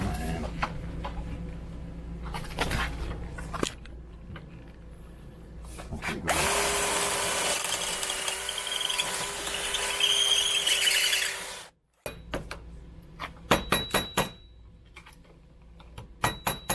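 A power drill whirs steadily for several seconds while installing an RV awning, then cuts off abruptly, with scattered clicks and knocks and brief talk before and after.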